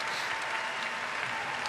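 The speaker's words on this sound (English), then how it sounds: "Mum and Dad clapping on" Dense, steady applause fills a gymnastics arena at the 2023 World Artistic Gymnastics Championships women's floor final, a continuous wash of clapping from a large crowd.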